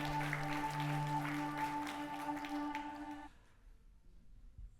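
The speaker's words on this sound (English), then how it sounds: "Give yourself a round of applause for free diving with Oceanics." Audience applause at a photography expo talk, a dense patter of clapping under a sustained hum that fades out after about three seconds, leaving near silence.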